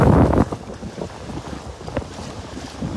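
Wind buffeting the microphone on a beach at Delnor-Wiggins, a heavy rumbling gust at first, then continuous lighter blustering with faint surf underneath.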